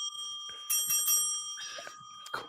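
A bright bell rings a few times in quick succession, clear and fairly quiet, with no voices around it.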